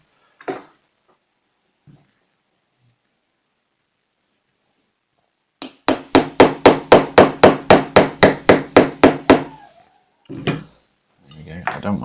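Rapid run of about a dozen metallic hammer taps driving a KJW KC02 airsoft pistol bolt carrier into place, the carrier stuck halfway against PTFE tape; loud and close, with a few stray knocks before and after.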